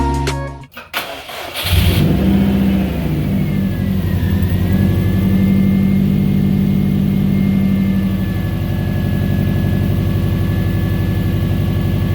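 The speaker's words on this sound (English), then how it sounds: "We're gonna take it for a drive and see how it's doing" A Subaru WRX with transmission trouble starts up with a brief crank and catch, then settles into a loud, close engine drone. It revs and pulls steadily as the car sets off on a test drive.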